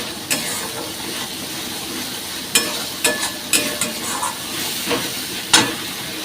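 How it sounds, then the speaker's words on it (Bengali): Spice paste fries in oil in a pan with a soft, continuous sizzle underneath. Intermittent scraping and clicking strokes from a spatula stirring the masala sound close and moderately loud, and nobody speaks. "মশলা কষানো হয়ে গেছে"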